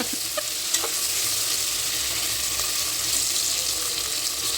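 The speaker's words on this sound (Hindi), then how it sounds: "ये तेल हमेशा मेरे ऊपर ही अटैक करता है, जाने दुश्मनी। मसाला भी फ्राई हो चुका है।" Masala spices frying in hot oil for a pressure cooker chicken biryani, a dense, even sizzle with a few sharp pops early on, close and steady with no talking.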